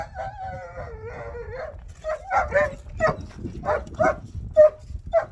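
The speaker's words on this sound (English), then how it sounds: "I'm gonna have to get away from that dog" A dog barks outdoors in a series of sharp, evenly spaced yaps after a brief howl-like whine, fairly close and loud, with a rooster-like call mixed in and no talk over it.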